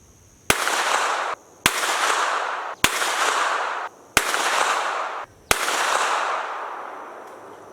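A CZ Scorpion EVO 3 S1 firing 124-grain Gold Dot rounds at a 25-yard target: five loud, sharp shots spaced about a second apart, each followed by a long rushing echo that fades before the next.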